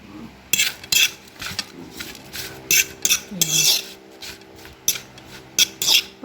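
Metal spoon scraping and clinking against a pot as salt is stirred into Ilocano pakbet, a run of short, close scrapes in an irregular rhythm with no talk.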